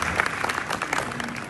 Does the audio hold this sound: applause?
yes